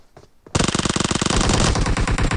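Automatic gunfire in PUBG Mobile erupts after a short quiet start into a loud, close, sustained stream of rapid shots that continues steadily to the end.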